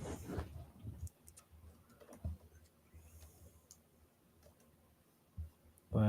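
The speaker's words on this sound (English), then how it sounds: "we're both just silently pecking at our keyboards, desperate for our internet to move faster" Two people peck at computer keyboards, with sparse, irregular clicks and taps scattered across a quiet room, a few louder knocks at the start and end, no one speaking.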